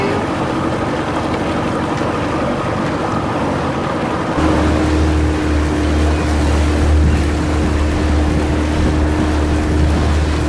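A motorboat engine drones steadily over rushing water and wind, its low hum growing louder and deeper midway as the throttle picks up.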